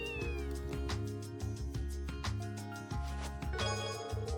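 Kitten in the video game Trails from Zero meows over game music with a steady rhythmic beat, its mewing faint and partly blended with the score.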